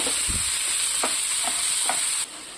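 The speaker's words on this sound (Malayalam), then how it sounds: "നമുക്കിതൊന്ന് ഇളക്കിക്കൊടുക്കാം." Drumstick theeyal curry is stirred in a pan in a Kerala kitchen: a steady loud sizzling hiss with a few light spoon knocks and scrapes, then the hiss drops near the end, with no talking.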